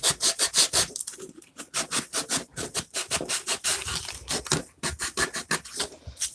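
Sandpaper scrubs along the edge of a bathroom cabinet in quick, rhythmic back-and-forth strokes, a dry raspy scratching that runs steadily and close by, with brief pauses.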